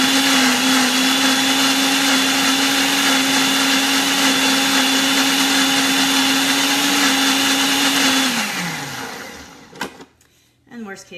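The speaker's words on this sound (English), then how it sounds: "Sometimes you just got to give your blender a little bit of love on here." A blender whirs loudly at a steady high pitch while blending frozen fruit for a dragonfruit smoothie bowl, running for about eight seconds before spinning down, followed by a few clunks and rattles.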